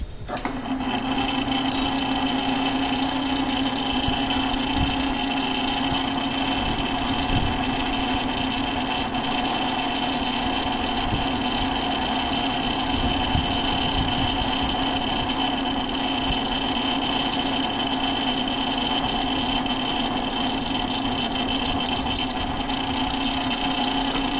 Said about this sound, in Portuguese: Aqui uma broca não tão afiada, tá? Ela já foi utilizada para fazer alguns furos.